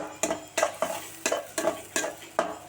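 Whole green chillies sauté in an oily gravy base as a spoon scrapes the pan in quick regular strokes, about seven close knocks and scrapes over a soft sizzle.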